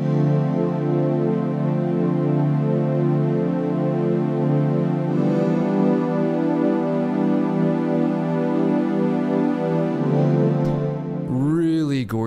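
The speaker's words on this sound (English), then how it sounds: "we're just going to start with this pad, which is a minor 9 coming out of the Korg Triton" Sustained, lush minor ninth synthesizer pad chord from a Korg Triton holding steadily, with a shift in tone partway through and a brief sweeping flourish at the end.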